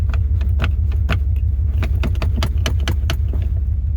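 An EFI 460 vehicle idles and strains up a steep driveway, a steady low rumble underneath with scattered sharp metallic clicks and rattles over it.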